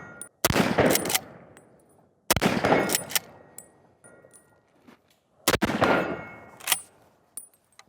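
A Remington Gamemaster 760 pump-action rifle fires three loud, sharp shots a few seconds apart at targets at 35, 50 and 100 yards, each blast followed by a rolling outdoor echo and the clack of the pump action.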